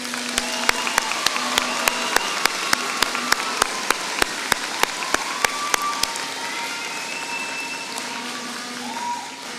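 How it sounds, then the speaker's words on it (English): An audience applauds at a college graduation ceremony. A few sharp, evenly spaced claps stand out over a softer wash of clapping before it dies down. "Can we please have a round of applause?"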